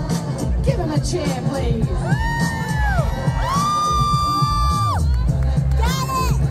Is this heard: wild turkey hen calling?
no